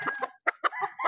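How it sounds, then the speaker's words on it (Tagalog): A rooster of the Golden Boy cross crows in a short, close, loud call, broken into several bursts with brief gaps, with no talk over it. "Ito ang last na manok."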